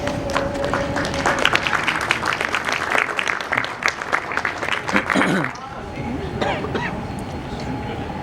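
An audience at a public-administration technology conference applauds a speaker with dense, loud clapping that fills the room, then stops abruptly and leaves a quieter hall with faint voices and stray sounds.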